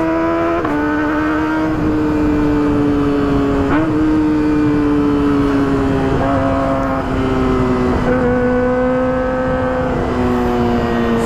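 A Kawasaki ZX25R motorcycle passes by with a loud, high-pitched engine note that holds steady over several seconds, shifting pitch slightly as the bike moves, with a strong, continuous roar throughout.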